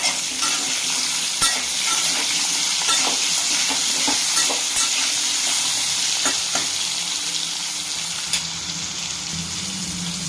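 Potatoes fry with a pinch of salt in a pan, hissing loudly and steadily for the whole stretch while a utensil scrapes and clacks against the pan in irregular stirring strokes. No one speaks.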